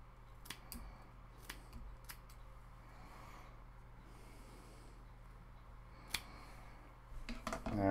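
A few sharp, close snips of scissors trimming excess twine on a wine cork pumpkin craft, isolated quick cuts with quiet between and a rustle of handling at the end.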